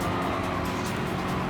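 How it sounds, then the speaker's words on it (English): The engine of a 1958 C1 Corvette in the racing game Gran Turismo 7 roars continuously, loud, dense and rumbling, with no pauses. "The engine noise of the C1 Corvette is a little monster"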